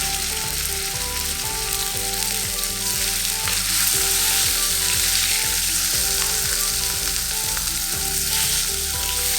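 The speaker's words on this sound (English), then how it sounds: "When the oil is hot, put in the pork belly." Pork belly frying in hot oil in a pan, a loud steady sizzle with crackling spatter running throughout, near and continuous, no voices.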